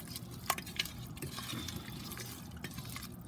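Coconut milk is poured into a pot of homestyle vegetable biryani, soft liquid splashes and drips heard close and faint, with a few sharper clinks.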